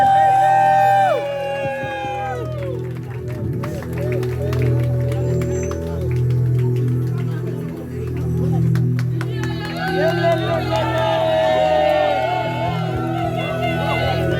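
A crowd at a celebratory gathering cheers and acclaims, with loud, sustained massed voices, whoops and shouts, and tonal vocal calls that rise and fall throughout, swelling again near the end.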